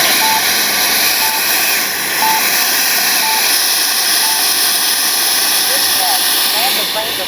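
A small jet engine on a Freewing F-22 70mm RC model jet whines steadily at close range in flight, a loud continuous rushing roar with a high tonal edge that holds throughout.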